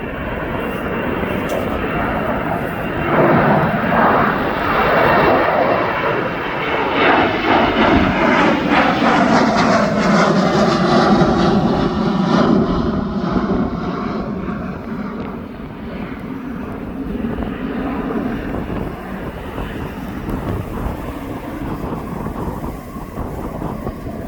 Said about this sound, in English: So the Jet2 is now making his run up.